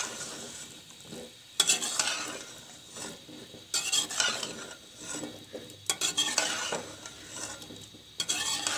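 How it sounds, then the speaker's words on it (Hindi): Boiled potatoes for samosa filling being stirred and mixed in a sizzling pan: repeated scraping strokes of a spoon against the pan in bursts over a soft, steady frying hiss, with no talking. "इसके बाद इसे मिक्स कर लेना।"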